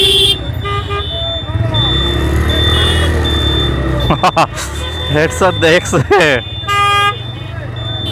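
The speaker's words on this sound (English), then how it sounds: "So much traffic jam here, but we will go to the left side." Traffic jam on a road heard from a motorcycle, with a low engine rumble and a burst of short repeated car horn toots in the second half, while someone talks over it.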